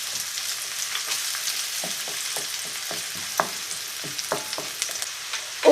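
Onion and garlic frying over high heat in a pan, a steady soft sizzle broken by scattered stirring clicks and scrapes, close and moderately loud with no voices.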